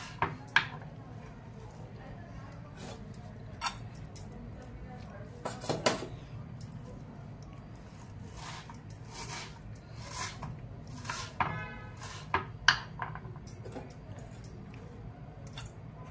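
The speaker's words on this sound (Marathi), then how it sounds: "आता ते आपण कापून घेऊयात।" A knife chops washed fresh fenugreek leaves coarsely on a board in a home kitchen, giving irregular soft cuts and scattered sharper taps over a steady low background, with no talk.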